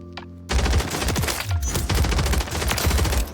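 An SMG in Warzone 3 fires in a rapid, near-continuous stream after a brief quieter lead-in, loud and close with no talking over it.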